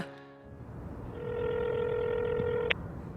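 A telephone rings with a sustained electronic tone that holds steadily and then cuts off abruptly, clear and near, with no voices.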